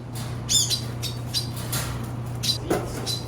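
A male bird gives several sharp, harsh squawks close up while being placed into an aviary, spread over a few seconds above a steady low hum and light rustling.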